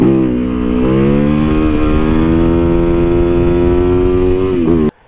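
A Supermoto motorcycle engine holds a loud, close, high rev with a strong steady drone, the pitch climbing slightly before cutting off abruptly near the end.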